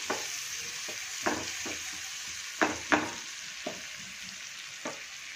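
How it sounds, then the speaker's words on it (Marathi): Finely chopped onion sautés in a pan with ginger-garlic paste, a steady soft sizzle broken by several sharp scrapes and knocks of a spoon against the pan at irregular intervals. "आपण घालणार आहोत इथे बारीक चिरलेला कांदा. हे छान परतून घ्यायचं."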